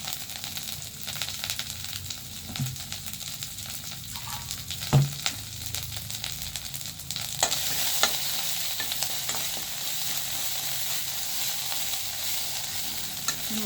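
Spices frying with salt and turmeric in a pan, a steady close sizzle with scattered stirring scrapes and a few louder clinks of a spoon against the pan, continuing without pause and no voices.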